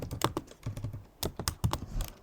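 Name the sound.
typing on a computer keyboard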